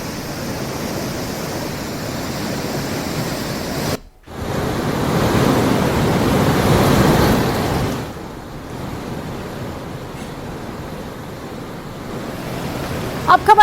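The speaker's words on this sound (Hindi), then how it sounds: "पानी का बहाव कितना तेज से ऊपर से आते हुए, दो धाराओं से आते हुए इस पानी के बहाव को देखिए।" The swollen Reva river in Jhalawar, Rajasthan, rushes loudly after heavy rain as water pours down in two streams, a constant roaring wash with a brief cut near the start.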